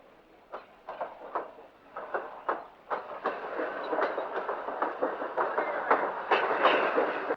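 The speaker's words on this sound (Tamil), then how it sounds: "ரயில் போயிட்டே இருக்கு, பாத்துக்கிட்டே இருக்கியே." Rhythmic clickety-clack of train wheels over rail joints, steady repeated clacks that build slightly in loudness, with a faint rumble beneath.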